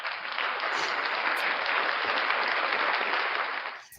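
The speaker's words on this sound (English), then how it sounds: "Give yourself a round of applause" A crowd applauds in a dense, steady burst of clapping that holds for several seconds before tapering off at the end.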